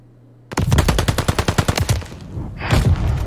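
Automatic gunfire in the video game Call of Duty Vanguard during ranked play: a loud, close, rapid burst of evenly spaced shots lasting about a second and a half, followed by rougher noise, with no talking.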